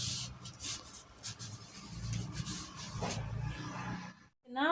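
An iron pressing a sewn fabric turban headband: soft, steady rubbing and gliding across the cloth close by, with brief hissy bursts, then a short silence and a final small knock.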